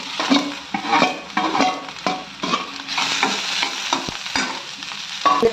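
Shredded cabbage goes into a hot pan with chillies and curry leaves and is stirred, sharp scraping strokes of a spoon against the pan repeating roughly every half second over a continuous sizzle, close and clear, without speech.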